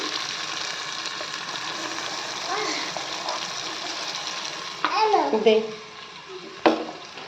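Chicken is stirred with water in a pan, giving a soft sizzle and scraping stir strokes close by. Louder clatters come near the end, and faint voices, including a child's, are heard in the background.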